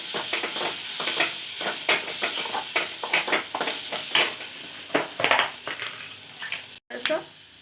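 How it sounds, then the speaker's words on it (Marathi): Kasuri methi (dried fenugreek leaves) stirred and sautéed in a pan while making gavar (cluster bean) bhaji, giving a steady sizzle broken by repeated scraping strokes of a spoon against the pan. "थोडी कस्तुरी मेथी टाकूया। याला पण परतून घ्यायचंय।"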